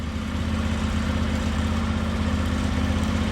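A tractor engine idles steadily nearby, a continuous low rumble with a deep harmonic hum that holds even and unbroken throughout, with no voices over it.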